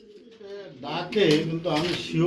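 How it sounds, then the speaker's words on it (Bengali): A single adult red Strasser pigeon in a cage at a pigeon farm gives a low, close cooing that rises at the start, then gets mixed with people talking nearby. "একটি সিঙ্গেল কবুতর রয়েছে রেড কালার স্ট্রেচার কবুতরের মধ্যে"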